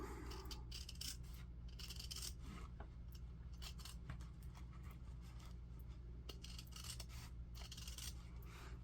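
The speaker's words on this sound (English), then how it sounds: "Now when I'm cutting up, I want to make sure that I'm not going to cut any of my ribbons" Scissors snip steadily through old denim jeans, with close, repeated crisp cutting and rasping strokes and no talking.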